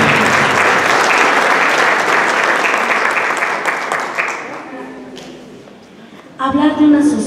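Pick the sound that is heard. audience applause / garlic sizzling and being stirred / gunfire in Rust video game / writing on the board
audience applause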